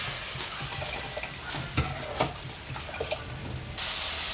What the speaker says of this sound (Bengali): আবার একটু পানি দিন দিয়ে মশলাটা কষাই